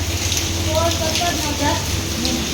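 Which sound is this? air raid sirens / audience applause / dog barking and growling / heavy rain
heavy rain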